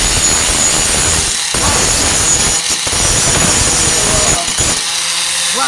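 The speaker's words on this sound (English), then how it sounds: "Grind some of this down." An abrasive grinder works rust off the tailgate of a 1998 Ford Ranger, a loud, close, continuous harsh grinding with brief dips where the tool lifts off the metal.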